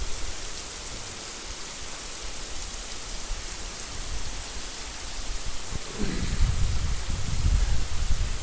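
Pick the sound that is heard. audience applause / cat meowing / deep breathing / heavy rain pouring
heavy rain pouring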